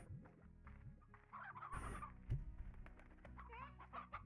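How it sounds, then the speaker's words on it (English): Hen clucking in the video game Slime Rancher, a series of short bird calls over a busy game soundtrack with music and effects, moderately loud and repeated. "I picked up a hen, that wasn't meant to happen."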